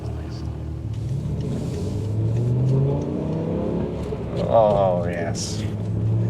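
A car engine starts and revs, deep rumbling idle rising into throttle blips, close and fairly loud, with a brief exclamation from a person partway through.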